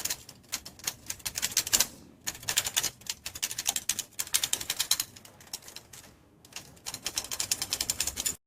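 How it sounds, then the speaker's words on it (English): A man types on a typewriter in an AI-generated scene, with rapid bursts of crisp mechanical key strikes and brief pauses between runs, close and fairly loud. "A man using a typewriter."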